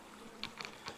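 Faint buzzing of robber honey bees at a dead, beetle-infested hive, with a few brief, louder passes of insects flying close by over a quiet background.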